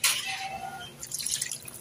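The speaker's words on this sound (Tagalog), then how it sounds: "Lalagyan din natin ng tubig yan." Water is poured into a binangkal dough mixture already holding oil, giving a brief, soft, close splashing and trickling that fades after a moment.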